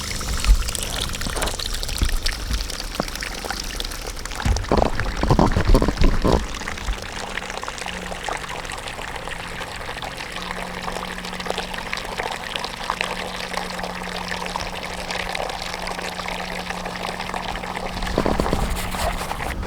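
Tap water runs from a faucet into rubber animal bowls in a steady, fairly loud pour, with a few brief splashy bursts early on and a constant low hum underneath.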